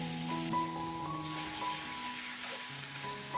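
Beef sizzling in a pan with a spoonful of melted butter for a hamburg steak, a steady close crackle and hiss with faint tonal kitchen hum underneath, no talk.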